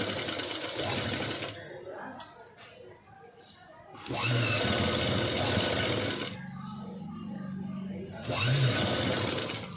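Sewing machine stitching a sleeveless cut-work padded blouse, running in two loud sustained bursts with a quieter pause between, close by and alone.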